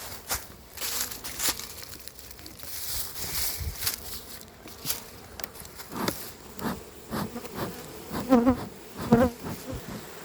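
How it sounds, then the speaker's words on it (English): Agitated honey bees buzz around an open hive, a dense, fairly quiet drone with sharp close passes and bumps as individual bees fly near, and no voices. "Now that's the sound of agitated bees."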